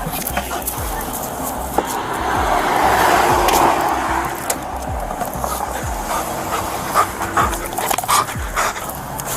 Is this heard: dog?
yes